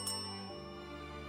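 A single bright bell strikes near the start, then its ringing tone hums on steadily and slowly fades, alone without voices.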